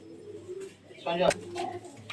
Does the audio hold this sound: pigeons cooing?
yes